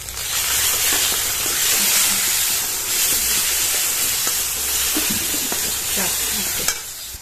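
Paneer masala with chilli, coriander powder and salt frying in oil, a loud dense continuous sizzle with the scrape of stirring running throughout, close up.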